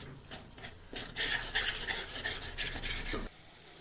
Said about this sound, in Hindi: इसको मसाला को हम तेल छोड़ने तक भूनेंगे।